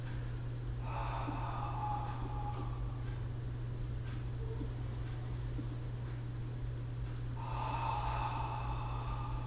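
Two slow, deep exhalations during a chi kung breathing exercise come through softly, several seconds apart, over a steady low electrical hum.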